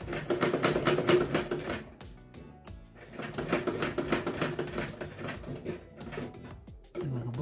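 A sewing machine stitches piping onto a katori blouse in short bursts of rapid needle clatter, stopping and restarting as the fabric is turned at a corner, heard close and moderately loud.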